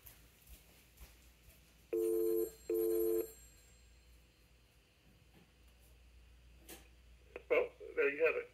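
A payphone ringing in another room, heard faintly and at a distance: two short ring bursts, then quiet room noise, with a person talking near the end.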